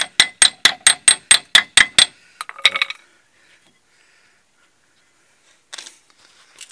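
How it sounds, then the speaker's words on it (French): A hammer strikes a Peugeot 206 suspension arm to knock it loose: nine quick, evenly spaced metallic taps, then a couple of scrappier knocks, silence, and a faint clink near the end. "Un petit coup pour le décoller."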